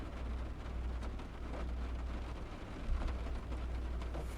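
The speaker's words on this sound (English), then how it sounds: "Yeah, so it's only a light shower." Steady soft hiss of light rain falling in a train simulator game, with a constant low engine-like rumble from a Class 456 train underneath and no voices.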